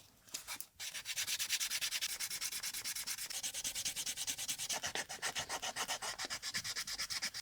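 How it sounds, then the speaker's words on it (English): Edges of a leather wing wallet being sanded with 120 grit sandpaper in quick, even back-and-forth strokes, a close rhythmic rasping that runs steadily throughout. "I'm using 120 grit sandpaper to make sure that all the edges are nice and even."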